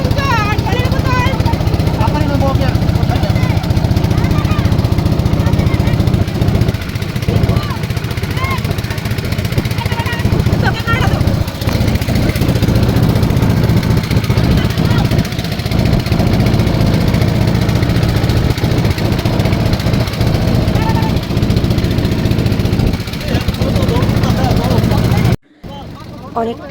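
A boat's engine drones loud and steady through the whole ride, a continuous mid-pitched motor rumble that cuts out briefly near the end.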